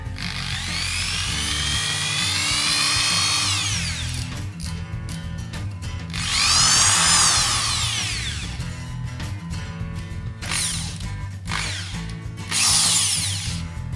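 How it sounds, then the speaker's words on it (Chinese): A corded electric drill runs continuously with its lock-on button engaged, a loud steady motor whine rising and falling in pitch across three long bursts, with brief gaps between, and no voices. "按下这个按钮，即使我们松手，电钻也会一直运行"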